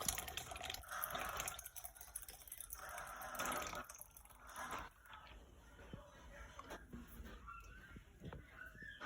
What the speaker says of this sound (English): we want to put a whole can of evaporated milk